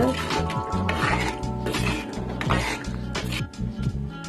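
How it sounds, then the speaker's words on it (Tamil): Spoon stirring sesame oil into a pot of garlic kuzhambu, steady scraping and clinking of metal against the pot with a low bubbling simmer underneath, close and continuous. "நல்லெண்ணெய் சேர்த்துட்டு நல்லா கலந்து விட்டுக்கோங்க"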